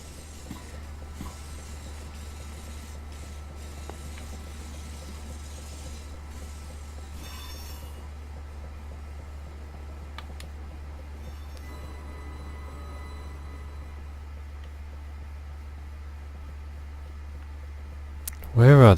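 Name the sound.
train driving in Train Simulator 2018 video game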